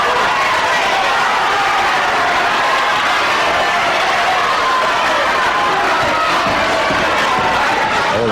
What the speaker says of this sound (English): Oh, the crowd really loving this semi-final, this first semi-final.